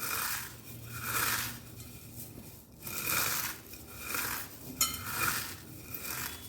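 Cornflakes crushed by hand in slow repeated squeezes, dry crunchy crackling in about five or six rhythmic bursts, close and fairly quiet.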